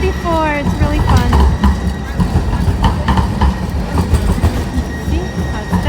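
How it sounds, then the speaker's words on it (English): A MAX light rail train passes through a city street, its wheels clattering with a brief high squeal near the start, loud and close, while voices talk over the rumble. "this right here is called the Max. This is their railway system."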